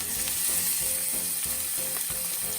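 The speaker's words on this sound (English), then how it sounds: "We'll let that saute and become translucent" Diced onion sautés in oil in a medium-high pot, a loud continuous close sizzle with regular soft scraping strokes of stirring throughout and no voices.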